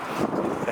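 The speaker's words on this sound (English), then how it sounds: "the wind is really grabbing the signs there, so I'm going to have to bag them" Gusty wind buffets the microphone outdoors at a street protest, steady and broadband, as it catches and flaps picket signs, with no talk.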